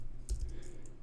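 Brief burst of computer keyboard typing during a JavaScript coding session, a few quick close key taps on a low steady background hum.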